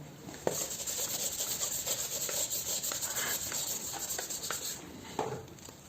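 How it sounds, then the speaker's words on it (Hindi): A marker or chalk scratches out a formula on a board in steady rubbing strokes with a few sharp taps, close and fairly loud against a bright background hiss, no talking. "तो एक बार इनको दोबारा लिख लेते हैं।"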